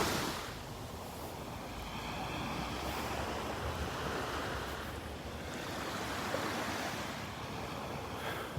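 Surf and wind on Vanderbilt Beach in the morning: a steady wash of waves under continuous, faint wind rumble with no break.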